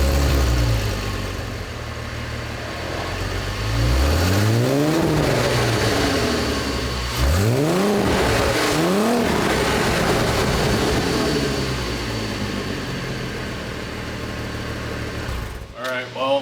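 A Honda-engined Volkswagen Golf with an APR aftermarket exhaust revs repeatedly, rising and falling in pitch with a deep, throaty exhaust note between idling stretches, close and loud.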